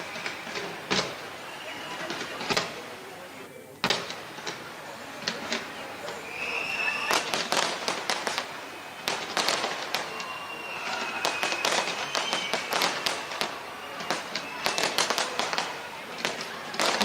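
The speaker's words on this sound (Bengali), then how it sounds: "সেখানকার মানুষজন বাজি ফাটিয়ে একেবারে নতুন বছরকে বরণ করে দিচ্ছেন।" New Year fireworks over Auckland, New Zealand: irregular volleys of sharp bangs and crackling bursts, some close and loud, others more distant, with crowd noise and voices between blasts.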